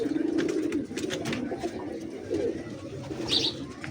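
Fancy breed pigeons kept by a pigeon fancier coo softly in low, rolling bursts, one near the start and another a little later, with faint background chirps.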